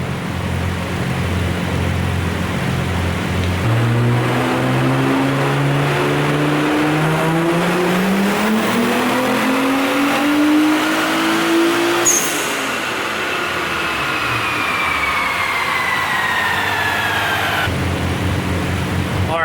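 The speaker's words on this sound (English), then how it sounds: "We're going to make another run now with a little more boost and a little more timing." A race car running on E85 revs hard on a dyno with more boost and timing, the engine note climbing steadily through the gears with a sharp rise and drop near the end, loud and close, no speech.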